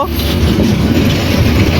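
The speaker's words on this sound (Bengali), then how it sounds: "ভাবছিলাম যে ট্রেনটা না দেখতে পেয়ে চলে যাব" Train rumbling past a railway level crossing beside a roadside paan shop, a loud, close, continuous low roar and rattle filling the moment.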